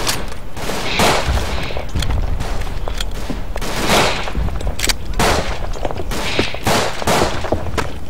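Gunfire in the WWI shooter Verdun, with Tommy and Canadian squads fighting. Rapid bursts of rifle and machine-gun fire crack continuously, near and loud, with repeated sharp reports and a dense fusillade throughout.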